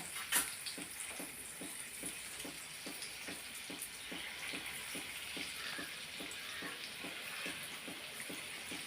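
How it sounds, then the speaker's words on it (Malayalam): Papadam frying in hot oil makes a soft, continuous sizzle with a regular series of faint scraping or flipping ticks about twice a second, steady and fairly quiet throughout. "എണ്ണയിലിട്ടിട്ട് നമ്മൾ പൊരിച്ചുകൊണ്ട് എടുക്കണത് കണ്ട. എണ്ണ അങ്ങനെ ചൂടായി കിടക്കുന്നുണ്ട് കണ്ട."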